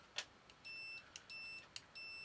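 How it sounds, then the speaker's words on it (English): A continuity tester gives three short, faint electronic beeps at a steady rhythm, each preceded by a small click as the probe touches a pin. "Make sure it bleeps so you know you've got continuity."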